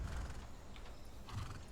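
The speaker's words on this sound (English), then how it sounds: "Let's get on a horse." A horse in the video game Far Cry 6 snorts and whinnies over steady hoof clip-clops, with a continuous game-world rumble underneath.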